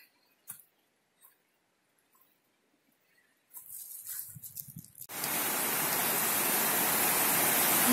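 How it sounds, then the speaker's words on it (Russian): Small waterfall on a forest stream in the Carpathians, first heard faintly behind rustling footsteps, then a loud, steady broadband rush of falling water up close. "и попали на водопадик такой. Маленький."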